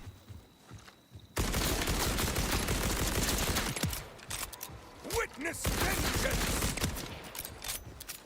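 Rapid gunfire in the Borderlands 4 video game, a loud continuous burst of overlapping shots and impacts that starts abruptly and keeps hammering for several seconds, with a brief voice heard at the start.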